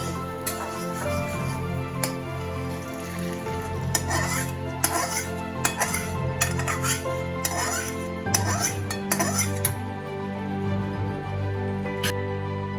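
Cooked semolina caramel pudding is scraped out of a pan into a bowl, with repeated spoon scrapes and metallic clinks against cookware over a soft, continuous background.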